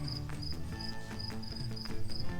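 Crickets and other insects chirp steadily outdoors, a dense pulsing high trill repeating in regular bursts over a low background hum.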